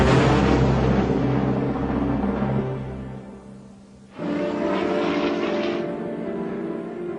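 An F-86 Sabre swept-wing jet fighter sends out a loud, steady engine roar with a low droning hum underneath. The roar dips briefly about halfway through, then surges back at full strength and eases slightly toward the end, with no voices.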